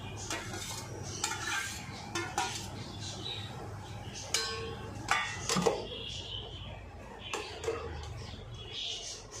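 Carrot and potato pieces tumble into a pan of chowmein amid scattered clinks and scraping of utensils against metal, over a steady background hum; a voice speaks faintly underneath.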